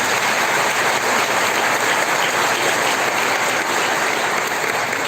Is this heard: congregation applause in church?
yes